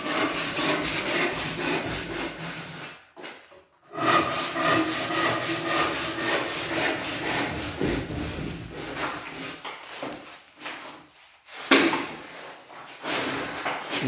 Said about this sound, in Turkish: Şimdi testereye yer açtı kesebilmek için.